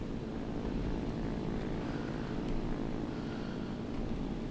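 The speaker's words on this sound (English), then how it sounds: "Got some flak going around, so I reckon there's an enemy plane somewhere around here." Propeller aircraft drone in a flight simulator game with flak and enemy planes around, a steady, broad engine roar that holds even and close throughout, with no speech over it.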